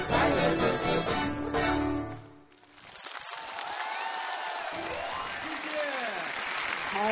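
Studio audience applauding a bluegrass-style band after a song, a broad wash of clapping heard first as the music ends, then continuing more softly beneath a voice speaking.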